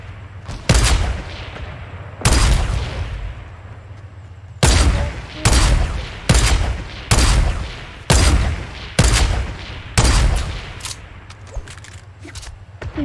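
Gunfire from a video game rings out in sharp, loud single shots, starting spaced apart and then coming in a quicker, regular series of about a half dozen reports, each trailing off briefly.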